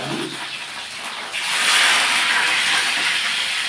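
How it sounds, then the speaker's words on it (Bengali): Pieces of katla fish hiss steadily in hot oil, the sizzle swelling louder about a third of the way in and holding as a dense, close, continuous frying noise with no voices. "আমি এবার তেলেতে মাছগুলো দিয়ে দিলাম। মাছটা গরম ভাজা হোক"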